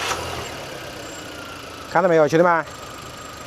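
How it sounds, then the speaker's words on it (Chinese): A car engine idling with a steady, smooth hum after its variable valve timing solenoid, clogged by sludge, was replaced; someone speaks briefly over it. "来，我们启动发动机"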